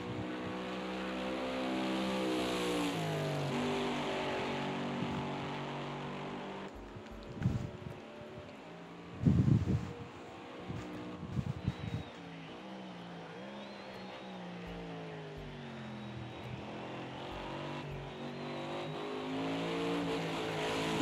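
Race cars in a racing video game lap Silverstone's historic GP circuit during qualifying. Engines drone with a rising and falling pitch, and a few louder passes and gear changes break up the steady, fairly distant roar.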